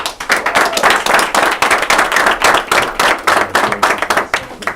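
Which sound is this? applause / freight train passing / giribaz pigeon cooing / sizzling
applause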